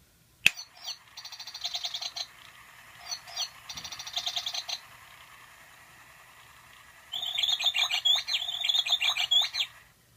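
A cheap imitation toy bird in a cage gives off bursts of high, rapid mechanical tweeting and warbling, three separate runs with pauses between, the last one longer and louder, with no voices.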